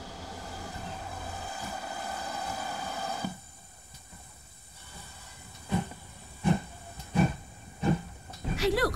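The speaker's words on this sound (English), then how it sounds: "We're going for a ride on a steam train." A steam train rolls along the rails: a steady hiss and rumble gives way to a quieter stretch marked by rhythmic clacks and thumps that grow louder toward the end.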